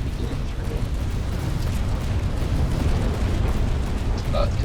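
Ships trade cannon fire in a video game battle, a continuous dense rumble of booms and blasts, with a voice talking over it.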